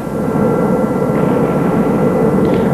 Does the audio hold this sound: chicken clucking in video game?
no